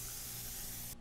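An HVLP spray gun sprays Ultra-Ever Dry coating in a continuous, steady, broadband hiss that holds constant and cuts off abruptly at the end.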